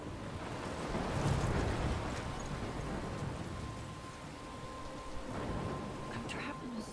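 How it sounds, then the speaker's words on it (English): A storm in the Life Is Strange game, with a steady roar of wind and rain rising and falling in rumbling gusts at low volume, while a voice speaks over it. "I'm trapped in a storm?"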